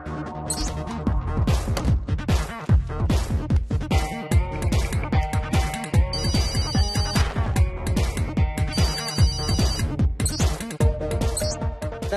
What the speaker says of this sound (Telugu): ఫోన్ రింగ్ అవుతుంది.